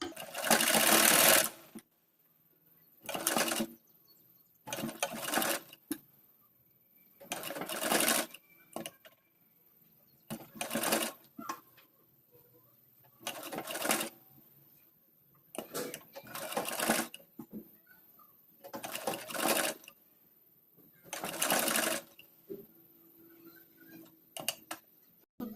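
A sewing machine stitches a strip of kurti fabric in about ten short bursts of one to two seconds each, separated by brief quiet gaps; close and loud, with no talking.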